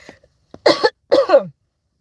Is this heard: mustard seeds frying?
no